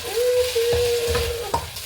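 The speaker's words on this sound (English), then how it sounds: "Got to protect the area here from this sizzle splashback." Food sizzling while frying in a hot pan in a condo kitchen, steady crackle with a few sharp pops and splashback, plus scraping stirs, close up and moderately loud.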